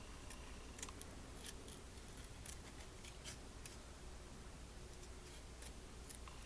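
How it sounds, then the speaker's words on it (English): Scissors snip through material while cutting out plushie eyes, quiet scattered crisp clicks over faint background hiss. "and now we're just going to cut out the rest of it."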